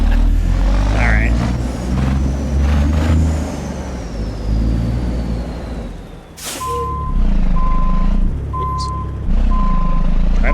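Truck reversing beeps from an International Lonestar hauling a trailer in American Truck Simulator: a steady run of evenly spaced beeps over low engine rumble, with an air-brake hiss just before and a voice talking over the engine.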